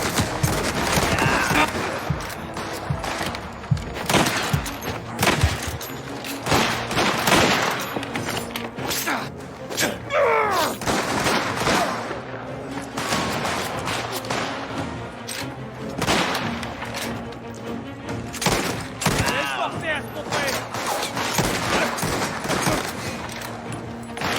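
Dense gunfire in a Mafia video game, with rapid bursts and single shots cracking repeatedly throughout alongside booms and crashes, with game voices shouting over the battle.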